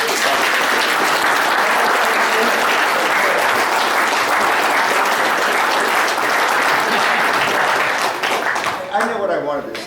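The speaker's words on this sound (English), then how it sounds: "round of applause." A reunion crowd gives a sustained round of applause for past presidents standing up, dense clapping filling the room for several seconds before tapering as a voice begins to speak.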